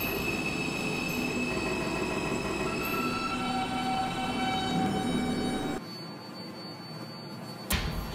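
A Roblox subway shuttle train on the Crosstown Shuttle Line runs with a loud, steady rumble, whining motor tones and wheel squeal, then cuts abruptly to a quieter cabin hum with faint chimes and a sharp click near the end.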